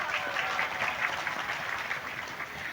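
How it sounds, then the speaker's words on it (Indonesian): Steady applause from an audience at a religious gathering in Muntilan, Magelang, Indonesia, a continuous patter of many hands clapping at a moderate, even level without pauses. "tepuk tangan"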